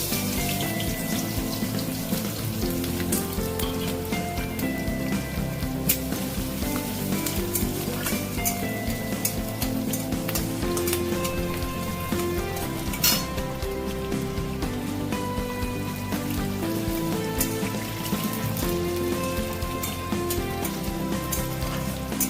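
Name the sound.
crushed garlic and green and dried chillies frying in hot oil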